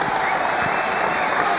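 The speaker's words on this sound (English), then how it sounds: "Hanley comes off to a tremendous cheer." Football crowd at a Leeds v Bradford match giving a substituted player a tremendous cheer, loud sustained applause and roaring filling the whole moment.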